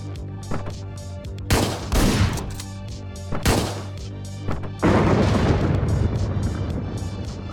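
Gunfire in the top-down shooter game Hotline Miami 2: a few sharp, loud shots land singly, then a denser burst of fire runs on continuously toward the end.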